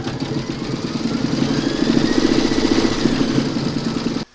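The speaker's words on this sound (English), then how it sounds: "Load your thread colour for the coffee pot itself into your machine, and then you're going to stitch round number 6." An embroidery machine stitches the coffee pot section of a coffee placemat design, giving a steady, close mechanical whir with a fast repeating rhythm that runs unbroken, then cuts off abruptly at the end.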